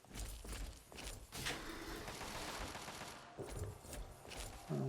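Gunfire crackles in Fallout 3 inside Vault 87, rapid overlapping shots and bursts rattling for several seconds at moderate distance.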